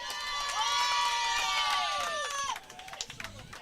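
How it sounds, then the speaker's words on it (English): A boisterous crowd at a high school baseball game cheers and shouts loudly, with high excited voices that swell and then fade, leaving scattered calls and a voice at the end. "Very boisterous crowd to our right."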